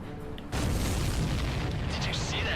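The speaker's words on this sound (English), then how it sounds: "Did you see that explosion?" Enemy supply ship exploding in the video game Ace Combat 7, a sudden deep boom that erupts and rumbles on loudly, with a voice talking over the blast.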